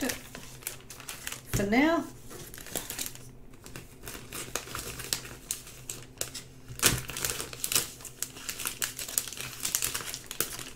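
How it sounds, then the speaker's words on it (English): A charcoal drawing is slid into a crinkly plastic sleeve, with loud bursts of crackling and rustling plastic in irregular handfuls while a person talks over it. "I'll pop it into the plastic to protect it"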